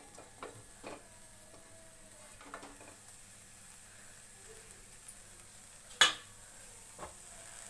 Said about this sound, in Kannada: ಇವಾಗ ಹಾಕೋತಾ ಇದ್ದೀನಿ ಹಾಗಲಕಾಯಿನೆಲ್ಲ ಒಂದು ಬಾಣಲಿಗೆ.